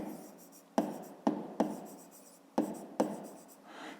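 A pen scratches across paper as a perimeter formula is written out for a fifth-grade rectangle exercise, in close, quiet strokes with several sharp taps where the pen lands.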